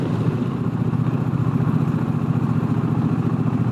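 A Honda Rebel 1100 motorcycle with a DCT gearbox runs in a lower gear on a cross-country ride, its engine giving a loud, steady, throbbing drone that stays constant throughout.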